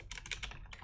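A short burst of typing on a computer keyboard, several quick close key clicks in an uneven rhythm, quiet and with no talking.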